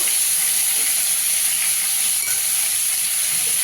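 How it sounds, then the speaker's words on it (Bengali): Pointed gourds (potol) fry in oil in a pan, giving a steady bright sizzle and hiss that holds evenly throughout, close and alone without talk. "পটলগুলোকে একটু লাল করে ভেজে নেব।"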